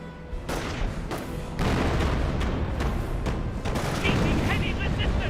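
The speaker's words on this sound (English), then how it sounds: "Incoming artillery, take cover. Artillery barrage now lining on up." Artillery barrage in the World War II strategy game Company of Heroes: a dense, continuous rumble of booming shell impacts and gunfire that swells louder partway through, with game voices and battle noise layered over it.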